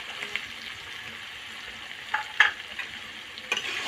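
Tengra fish fries in a pan with cumin-onion paste, a low steady sizzle carrying a few short stirring scrapes and clinks, near and fairly quiet, with no speech.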